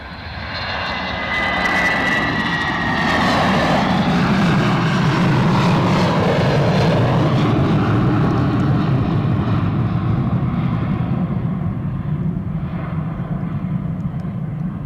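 An aircraft engine roars loudly at Edinburgh Airport as a plane lands or takes off up close, a broad sustained rumble that swells and holds steady for the whole stretch with no talk over it.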